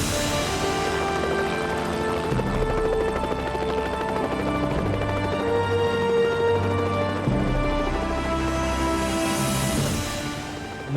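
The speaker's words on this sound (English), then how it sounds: "Moments later, I heard that helicopter approach." A rescue helicopter in the Alps after a storm on Les Droites, its rotor thrum steady and loud, blended with dramatic music throughout and swelling slightly near the end.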